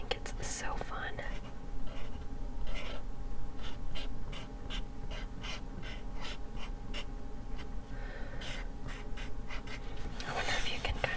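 Sharpie marker doodling flowers on paper, soft scratchy strokes repeating in quick bursts up close, heard under quiet whispering.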